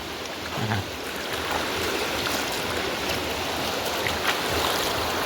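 River water flows and ripples steadily at a low, even level, a soft continuous wash with no voices over it.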